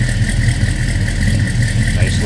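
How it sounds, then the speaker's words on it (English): The 440 V8 of a 1969 Dodge Coronet RT idles with a loud, steady, low, even rumble that carries on without a break. "Nice little rumble out of that 440"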